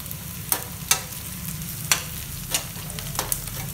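Onions and vegetables sautéing in a pan for vegetable kurma, a constant soft sizzle broken by several sharp scraping strokes of a spoon.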